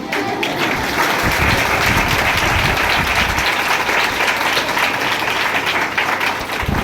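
A church congregation at a sermon breaks into sustained applause, loud and dense, filling the room steadily throughout with no break.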